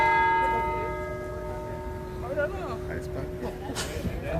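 A bell rings with a long, slowly fading tone at an outdoor steelpan festival, while crowd chatter and voices carry on beneath it.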